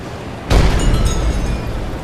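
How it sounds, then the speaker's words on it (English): A submarine deck cannon fires once in the UBoat video game, a sudden loud boom that rolls into a long fading rumble with nothing else around it. "Shoot it a few times with the deck cannon."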